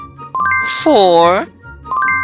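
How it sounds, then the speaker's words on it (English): Bright chiming bell tones ring out for about half a second, loud and close, between a child-directed voice counting numbers aloud. "five bells"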